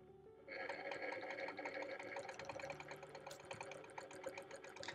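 A sewing machine stitching in the ditch of a quilt border at 11 stitches per inch starts after a short pause, then runs in a rapid, even mechanical patter up close.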